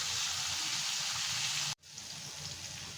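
Bitter gourd and potato slices frying in hot oil with turmeric give a steady, close hiss and crackle, broken by a brief pause near the middle before the sizzle resumes.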